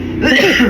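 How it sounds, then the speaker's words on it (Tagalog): A single short, throaty cough, close and fairly loud, lasting under a second. "Inuubo ka."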